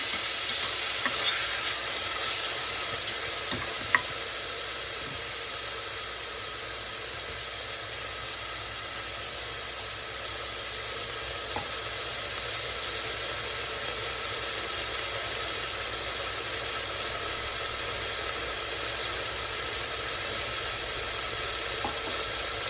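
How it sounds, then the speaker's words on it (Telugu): Chopped tomatoes sizzle steadily in a hot pan while cooking moong dal khichdi, a continuous close frying hiss with occasional faint stirring clinks, no voices. "టొమాటో కూడా బాగా వేగనివ్వాలి."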